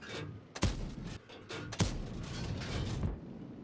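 Tank cannon shots in World of Tanks, two sharp booming blasts about a second apart over a rumbling battlefield background, followed by lighter echoing thuds.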